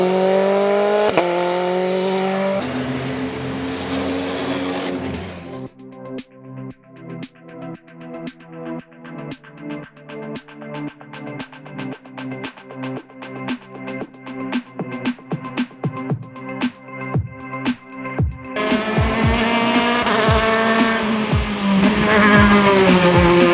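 A Norma race car at St-Ursanne roars loudly, its engine note rising and falling through gear changes with a steady pulsing drone in the middle stretch before surging again near the end.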